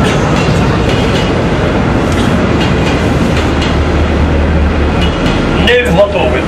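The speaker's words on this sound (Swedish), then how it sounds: "Nu har tåget passerat, nästan." A train passes close by, a loud continuous rumble with rhythmic clattering from the wheels that holds throughout, and a low hum joins midway before a brief squealing tone near the end.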